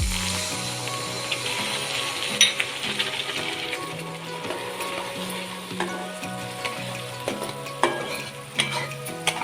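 Jaggery syrup for sesame tilgul sizzles loudly in a pan after a little water is added, with steady bubbling and scraping stirs that knock now and then against the vessel, with no talk over it.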